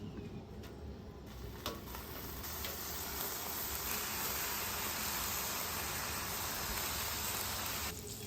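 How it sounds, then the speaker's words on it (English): About six to eight strips of bacon sizzle on a griddle, cooking extra crispy, giving a steady, even hiss that holds for the whole stretch with no talking. "we're just going to cook some bacon on the griddle"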